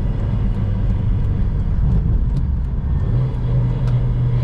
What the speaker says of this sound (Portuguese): Tô ouvindo um barulho só na parte do escapamento.